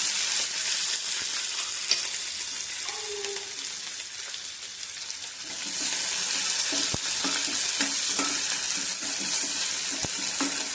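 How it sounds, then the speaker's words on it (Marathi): Onion, peanuts and coconut sauté in a hot pan with cumin, giving a steady close sizzle with stirring scrapes and a few sharp utensil clicks, no talking. "कांद्याला परतून घेऊया"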